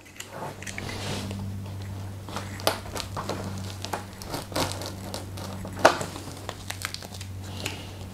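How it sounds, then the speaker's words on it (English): Heavy-duty Velcro strips being cut in half with a tool, giving faint, scattered crinkling snips and rustles over a steady low hum, with one sharper cut standing out near the end. "The strips are too big, so I'm gonna cut it in half."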